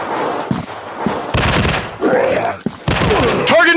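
Rapid bursts of gunfire and impact effects from the zombie shooting video game Fire Strike, loud and clustered in quick volleys with short gaps, mixed with game voice announcements.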